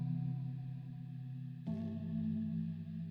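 A breathy, slightly noisy analog-style synth pad from the Phono Loops Tapes library holds soft sustained chords, shifting to a new chord partway through, with a chorus-like shimmer.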